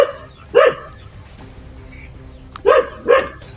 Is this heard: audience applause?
no